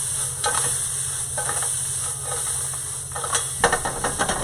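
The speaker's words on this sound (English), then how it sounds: "now I'm just going to toss them a little bit in the shallot and onions" Lobster pieces tossed in a hot pan with shallots and onions for a pan-roasted bourbon lobster, a steady close sizzle with bursts of scraping and stirring that grow louder near the end.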